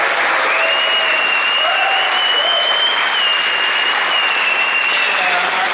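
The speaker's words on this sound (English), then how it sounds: "they deserve a real round of applause" Theater audience applause at a Chicago movie house screening, a thick sustained wash of clapping from a large crowd, loud and even throughout, with a faint high whistle-like tone running over it.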